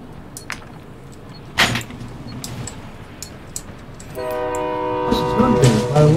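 Train in the video game Call of Duty DMZ: a faint rumble, then a sustained horn of stacked tones that swells and holds near the end, with scattered clicks and brief noise bursts.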